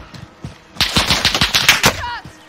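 Rapid bursts of automatic gunfire in a video game shooter, loud and close, several quick volleys clustered in the middle, followed by a brief electronic tone, with no speech over it.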